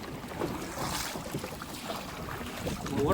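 Stormy wind and rain buffet a small river boat on the way home near Marichjhapi forest, a rushing, gusty roar with splashing water throughout, wind noise hitting the microphone.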